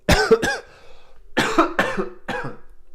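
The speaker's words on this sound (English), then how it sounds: "I'm curious how my cough will be during the day." Several sharp coughs close to the microphone: a quick pair, a pause, then three more bursts in a rough rhythm, with nothing else heard.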